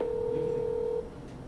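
A telephone keypad tone sounds as a call is placed, a single steady beep holding for about a second before cutting off to quiet line hiss, fairly faint.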